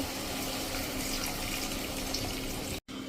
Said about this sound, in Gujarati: હવે આમાં 2 ગ્લાસ જેવું આપણે પાણી નાખી દઈશું